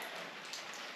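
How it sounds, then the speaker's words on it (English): Rainwater leaks inside a kitchen and drips out of a tank during a house renovation in Argentina, a soft, steady patter of drops that runs continuously and quietly for a brief moment. "It is raining inside the kitchen, and there is water leaking out of this tank."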